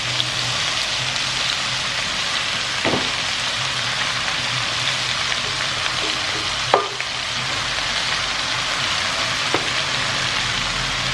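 Squash and string beans sauté in a pan, a steady close sizzle with a few sharp clicks of stirring spaced through it.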